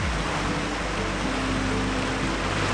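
Rushing creek water swollen after recent rain roars steadily as a dense, close wash of noise near old coal mines, continuous with no voices.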